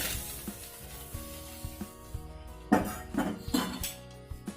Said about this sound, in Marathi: चाळणीमध्ये ओतून घेऊया